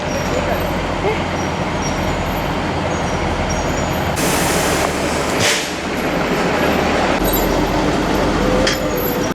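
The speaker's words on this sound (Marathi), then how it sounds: "गाडी माथेरानची राणी मिनी ट्रेन येत आहे" The Matheran mini toy train rolls past loudly with continuous rumbling and clattering, a sharp hiss bursting midway, while people talk nearby.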